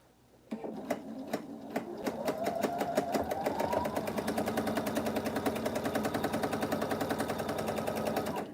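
A sewing machine chain piecing quilt fabric starts up and runs steadily, a fast even mechanical rattle of the needle that continues loud and close for several seconds after a few separate clicks.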